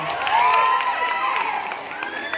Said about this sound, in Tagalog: Wala po ba palakpakan dyan?